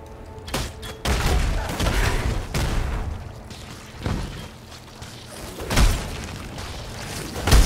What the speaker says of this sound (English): Nice, corpse explosion.